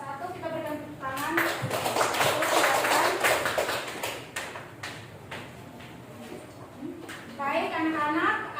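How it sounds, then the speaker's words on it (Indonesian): Classroom applause for a student group that has just finished a physics presentation, a dense patter of clapping in the middle of the clip with speech before and after it. "Kita berikan tepuk tangan."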